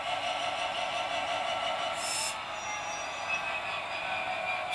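Model Bachmann Class 66 locomotive rolling steadily over Peco Insulfrog points and radius 2 sidings track, a continuous mid-level rail rumble with a brief higher squeal partway through.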